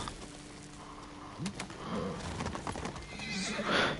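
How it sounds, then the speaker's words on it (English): A horse whinnies loudly in the video game Ghost of Tsushima on PS5, mixed with hoof clip-clops and game background sounds, the neigh rising near the end. "trying to get on the horse"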